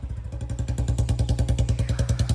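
A Royal Enfield Bullet motorcycle idles steadily in a village after finally starting, its single-cylinder thump loud, close and evenly pulsing, with no talking over it.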